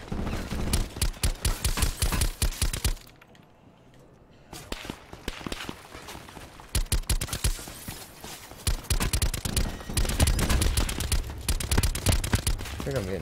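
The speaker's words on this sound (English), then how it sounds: "I think I'm getting shot at from behind" Gunfire crackles in rapid bursts during a Call of Duty Black Ops 4 Blackout match, mixed with footsteps and game noise, with a short quieter stretch before the dense shooting returns.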